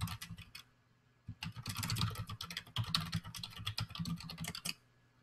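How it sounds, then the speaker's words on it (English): Rapid keystrokes on a computer keyboard come in dense bursts with a short pause near the start, close and fairly quiet, with no voices. "I'll type that in."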